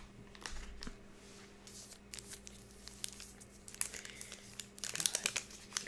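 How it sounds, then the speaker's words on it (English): Close, soft crinkling and rustling of a wax paper wrapper around individually wrapped fruit strips from a Munch Pak snack box, in irregular quiet bursts with no talking. "Got kind of a wax paper on there."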